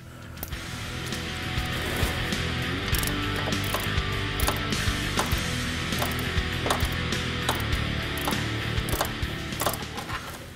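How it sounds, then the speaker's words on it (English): A ratchet fitted with a 3-inch extension, universal joint and 13mm socket loosens a hard-to-reach nut on a Jeep Wrangler hood catch, clicking in a rapid, continuous pawl rhythm broken by brief pauses. "I'm going to be using a 3-inch extension, a universal socket, and a 13 socket."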